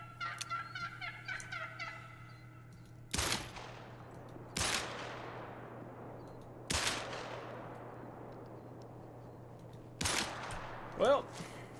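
A turkey gobbles in a quick run of calls, then pistol shots ring out in the Call of the Wild hunting game, four sharp reports spaced a couple of seconds apart with a last brief burst near the end.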